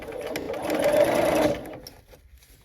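Sewing machine stitching curved quilt block pieces for a Coral Bells block, a steady close run of rapid stitches that builds briefly louder, then stops, leaving quiet room tone.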